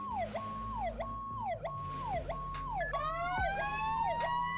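Emergency vehicle siren in the Roblox ER:LC game, a repeating electronic wail sweeping up and down about every second, joined near the end by a faster rising yelp, loud and continuous over low engine rumble, no speech.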